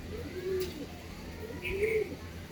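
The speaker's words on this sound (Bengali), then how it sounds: "এটা হলো শানপুরি পায়রা বাচ্চা" A Shanpuri pigeon chick at a bird market coos softly twice, a low call early and another near the end, against faint background noise.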